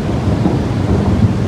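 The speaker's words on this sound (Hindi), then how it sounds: "ये बादलों की भी आवाज़ आ रही होगी।" Steady rain with low rumbling thunder outdoors at a university campus, a dense, continuous wash of noise at fairly loud level with a deep rolling undertone throughout.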